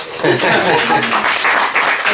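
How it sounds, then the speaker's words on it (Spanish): Audience applause after a short reading, a crowd clapping in a continuous, fairly loud patter, with voices talking over the clapping. "Podéis aplaudir."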